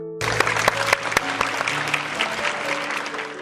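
Surgeons in a hospital briefing room burst into steady, dense applause after a presentation, a close, continuous patter of many hands with no voices over it.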